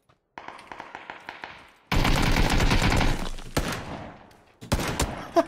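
Gunshots ring out in a shooter video game: a quick series of faint sharp cracks, then loud sustained automatic fire with booming reports, ending in a few heavy single blasts.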